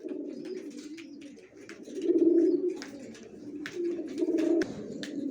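A pair of Johnson-line racing pigeons coo in soft, repeated, throaty rolls that swell and fade, close by and fairly quiet, with faint rustling and chirps around them.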